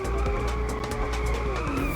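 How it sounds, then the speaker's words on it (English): A car drifting in the racing video game Inertial Drift, its engine droning steadily while the tires squeal and skid continuously, loud and close throughout. "You have to press the right stick as well to do like a proper drift"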